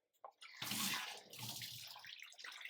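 Running tap water pours steadily into a sink while half a kilo of mutton is washed, a continuous splashing rush starting after a brief knock and lasting to the end, fairly faint, with no talking.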